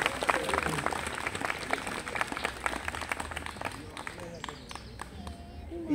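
An audience at an arts festival comedy show gives a burst of applause that thins out over several seconds, with a spoken voice over the clapping.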